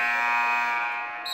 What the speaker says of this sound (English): the buzzer's extra loud